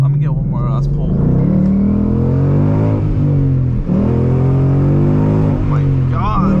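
A Ford Mustang accelerates hard on a backroad, its engine climbing in a loud, steady pull with a brief dip as it shifts gear before revving up again, heard from inside the car.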